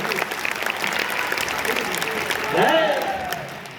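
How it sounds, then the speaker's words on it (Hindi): An audience claps steadily throughout a Hindi poetry recital about Chandrashekhar Azad at Azad Park, Prayagraj. The applause is a dense, sustained wash that swells briefly near the end, with a voice rising faintly over it. "तालियां बजा के"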